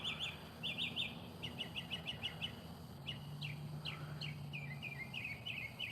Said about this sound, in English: Those are just bats and birds.